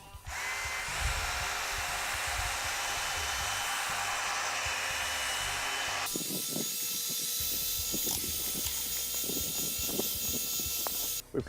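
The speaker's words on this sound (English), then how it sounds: "Start with your mixer at the very bottom of the drum" A drum mixer stirs pavement sealer inside a 55-gallon drum, giving a steady, loud motor whine that shifts midway to a rougher, churning mechanical drone with rattling, running unbroken throughout.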